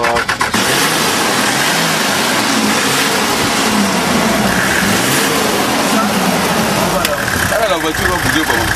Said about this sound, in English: The engine isn't getting air. The air filter is getting clogged.